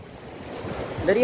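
Sea waves at the shore wash in with a soft, swelling rush that grows louder toward the end of the brief moment.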